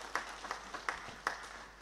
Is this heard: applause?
yes